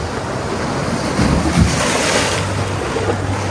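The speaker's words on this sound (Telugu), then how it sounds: "అలలు అయితే నా కిరాకు ఉన్నాయి" Sea waves breaking on the coast of Montenegro, a loud, continuous near surf roar with gusting wind buffeting the microphone.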